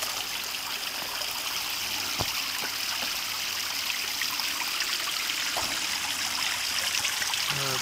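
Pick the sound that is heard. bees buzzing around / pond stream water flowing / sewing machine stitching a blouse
pond stream water flowing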